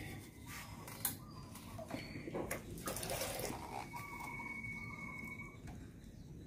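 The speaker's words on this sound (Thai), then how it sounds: "เราก็รดน้ำค่ะเดี๋ยวคุณยายขอรดน้ำในนี้นะคะน้ำจะได้ไม่ไหล" Water pouring from a watering can into a potted naga plant in a loose, crumbly soil mix, a steady soft splashing trickle close by, with faint birdsong in the background.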